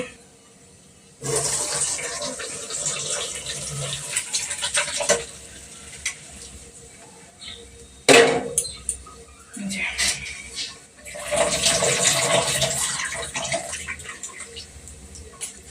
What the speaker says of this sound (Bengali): ভাতটা হয়ে গেছে এবার চুবড়ির মধ্যে ঢেলে দেব